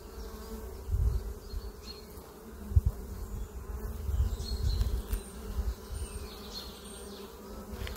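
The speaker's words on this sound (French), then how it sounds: "Là, il y a de l'abeille et on voit c'est rempli d'abeilles." A dense, continuous drone of many honeybees buzzing up close inside a crowded, opened hive, with low thumps and rustling handling noises scattered throughout.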